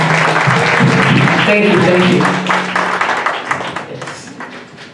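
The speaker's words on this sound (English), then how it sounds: "Everyone, please give a round of applause." A community celebration audience gives a loud, dense round of applause that runs steadily before thinning out, with a voice speaking briefly over the clapping near the end.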